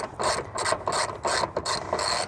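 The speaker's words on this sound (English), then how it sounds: "You just open up the flap, put in your T50 Torx bit or socket" A ratchet socket on a T50 Torx bolt of a 2019 Ford Flex SEL third-row seat clicks in several quick, close bursts of rapid ratcheting, with short pauses between strokes and no talk.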